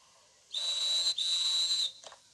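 A whistle in the Toca Boca video game: one clear, high, sustained tone lasting about a second and a half with a tiny break partway, sounding alone against near silence.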